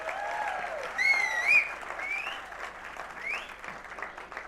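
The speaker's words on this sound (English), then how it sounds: "Please give them a huge round of applause." After a dance performance at a college law school's 2024 annual day, a crowd applauds in a sustained wash of clapping, with shrill whistles and cheers rising above it midway.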